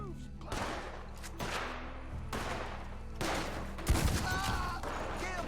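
Gunfire in Red Dead Redemption 2 during a night shootout: several loud, sharp shots spaced a second or so apart, each with a booming tail, over a low background rumble and occasional voices.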